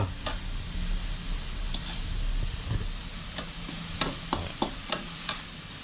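A spoon or spatula stirs MSG and a splash of water into a dish in a pan, with a soft background sizzle and a run of distinct scraping clinks toward the end and no talking.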